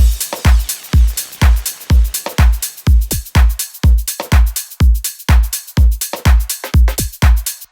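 Soloed electronic drums from a remake of a song, with punchy kicks and snappy hits in a steady, driving dance rhythm, loud and dry, with no other instruments or voices.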